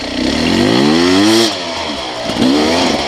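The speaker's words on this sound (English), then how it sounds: "Had to give it a little throttle there, but man, this thing's just lugging super slow." A 2021 Beta 300RR Race Edition dirt bike engine lugs slowly at low throttle, a loud close two-stroke drone that swells briefly with a bit of throttle, dips, then rises again with rumbling clatter and no talk.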